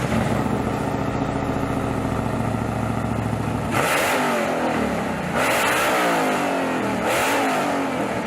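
A 1968 Dodge Charger with a supercharged 1,000-horsepower Hellephant 426 HEMI crate engine idles with a rough, loping rumble, then barks through three sharp, loud revs that rise and fall, heard up close.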